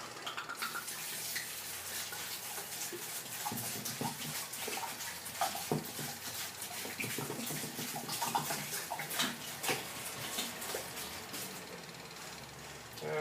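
Carlo Rossi wine, about half a gallon, pours in a steady continuous splashing stream, close and moderately loud, with faint clinks and handling noises over it.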